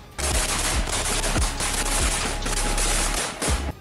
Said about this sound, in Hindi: ज़ेलेंस्की और पुतिन के जवान एक दूसरे पर जबरदस्त फायरिंग करते नजर आए